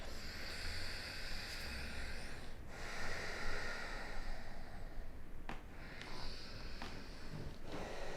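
Slow deep breathing during a yoga stretch: several long, airy breaths in and out, close and soft, with no talking.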